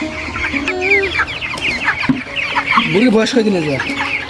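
Flock of 22-day-old broiler chickens on a village farm during hot weather, clucking and cheeping continuously up close with overlapping calls, plus a faint voice nearby.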